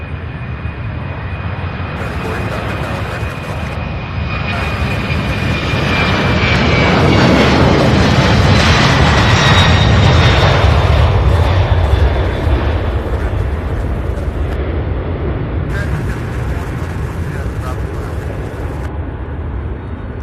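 A jet airliner takes off from Louisville International Airport, its engines swelling to a loud, broad roar that peaks overhead and slowly fades with distance, accompanied by intermittent radio static.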